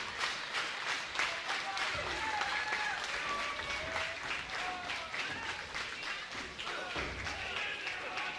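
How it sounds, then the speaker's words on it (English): Wrestling crowd at an indie show cheering and applauding steadily, a loud dense wash of claps and shouts with a few thuds mixed in, no clear speech. "The crowd showing their love for 325."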